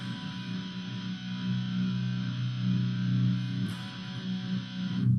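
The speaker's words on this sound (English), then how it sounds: "So instead it's going to look like this." A single distorted electric guitar chord from a song rings out steadily for several seconds, sustained and dense, with a faint scrape of fingers near the end.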